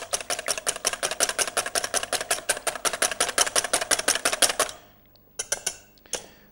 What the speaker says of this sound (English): So in go the 2 eggs, whisk, just to break the eggs down